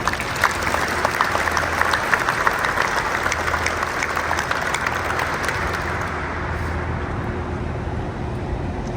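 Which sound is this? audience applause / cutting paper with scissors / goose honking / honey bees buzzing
audience applause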